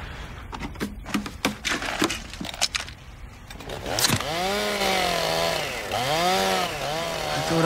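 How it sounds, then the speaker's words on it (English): A chainsaw starts with several sharp pulls and sputters, then roars to life, its engine rising and falling in revving surges, fairly close and loud, with no talk over it. "I thought I told them to bag that chainsaw."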